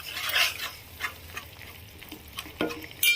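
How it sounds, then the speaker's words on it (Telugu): Spices for a fish curry are stirred and fried in a pan: faint background sizzle broken by soft, irregular scraping strokes and a few sharper clinks. "ఇవన్నీ కూడా ఇందులో మంచిగా కలిసేంత వరకు కలుపుకొని 2 మినిట్స్ ఇలానే ఫ్రై చేసుకోవాలి"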